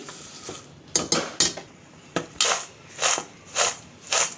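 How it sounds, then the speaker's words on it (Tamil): Semiya snack mixture being tossed together in a bowl, irregular close clinks and clatters of a spoon against the metal dish with short pauses between. "எல்லாத்தையும் சேர்த்து நம்ம மிக்ஸ் பண்ணி விட்டுக்கலாம்"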